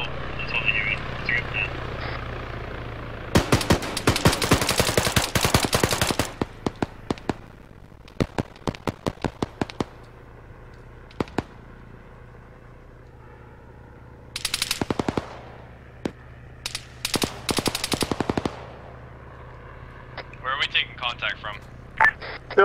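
Bursts of automatic gunfire and single shots crackle in a military tactical video game, some sharp and close, others fainter, separated by quieter stretches with occasional electronic beeps.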